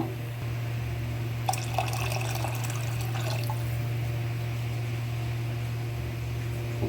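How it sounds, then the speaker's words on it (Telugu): Water splashes and trickles into a pot of pepper rasam for a couple of seconds over a steady low hum, then only faint dripping remains. "అందుకనేసి ఇంకొన్ని నీళ్ళు యాడ్ చేస్తున్నాను"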